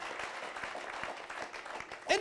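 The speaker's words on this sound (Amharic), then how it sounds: "አጨብጭቡ ለጌታ" Applause from a church service congregation praising the Lord, a dense even clatter of many hands held steady over background noise, ending with a brief louder burst.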